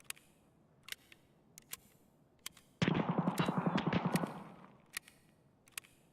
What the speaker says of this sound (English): Somebody's getting shot at.